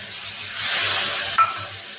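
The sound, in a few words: water poured into hot oil, sizzling while stirring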